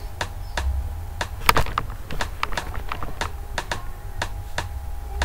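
A rim shot drum sample in a Zora (Sungura-style) beat built in FL Studio: short, sharp clicks repeating in a steady pattern with an occasional stronger hit, fairly quiet and dry with nothing else playing.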